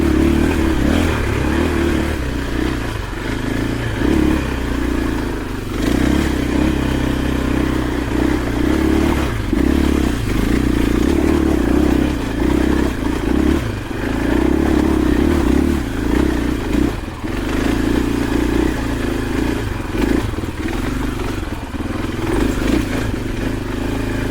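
A 2024 KTM 500 EXC-F dirt bike on Dunlop D606 tires chugs along in first gear: a loud, steady, close-up engine drone with a deep throb and a continuous low rumble, heard alone.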